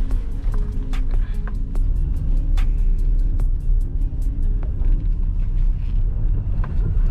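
A 2016 Toyota Etios Liva drives with a continuous low road and engine rumble heard from inside the car, plus wind buffeting and scattered sharp clicks and rattles.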